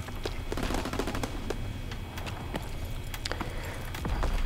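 Gunfire in a hardcore-mode shooter video game, a dense, steady stream of rapid shots and clatter with constant loud game noise and no clear pauses.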